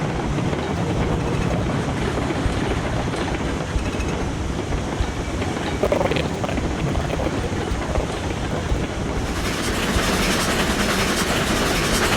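A steam train running in the video game Railroads Online, a steady loud rumbling roll with wind-like rushing noise that brightens in the last few seconds, no talking.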